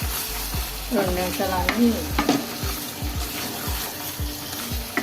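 Ingredients for chilli chicken fry in a pan with a steady, close sizzle and crackle. A spoon scrapes and stirs in a rhythm through the frying.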